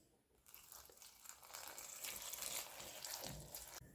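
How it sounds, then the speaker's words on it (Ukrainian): Water pours steadily into a pot of eggplant, a broad splashing rush that starts after a brief pause and runs for several seconds before cutting off. "заливаю водою та відправляю на вогонь"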